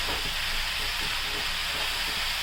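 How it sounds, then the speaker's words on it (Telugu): Ridge gourd pieces hitting a hot pan for a paneer mixed curry, giving a steady, loud, broadband sizzle and hiss that holds evenly without pause. "బీరకాయ ముక్కలు వేసుకుందామండి."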